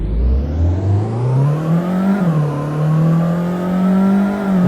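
A petrol car engine in the Roblox game Polish Car Driving revs continuously at high RPM, its pitch rising and holding with a steady synthetic hum and faint background hiss, loud and alone.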